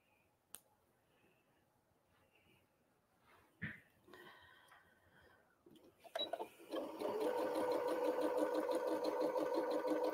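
A sewing machine stitches a quilt block, starting after a few quiet seconds of small handling sounds, then running as a steady, fast, even mechanical whir that stays close and fairly loud to the end.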